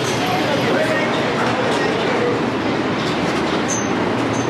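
Airport terminal tram on a Manchester-to-Orlando travel day, running with a steady, loud rumble and rail noise throughout, with people talking over it.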